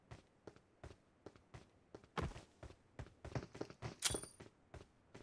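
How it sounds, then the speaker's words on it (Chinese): Footsteps in a battle royale shooter game, an in-game character walking nearby: quiet, evenly spaced thuds, then a louder burst of heavier scuffing and clattering midway, with no talking over them. "这脚步声有点像人机。"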